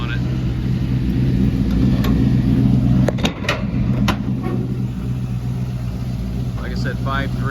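A built 5.3 LS V8 with a performance cam, swapped into a 1952 Chevy 3100 short bed, runs steadily at close range, a loud continuous engine drone throughout with a few brief sharper noises layered over it.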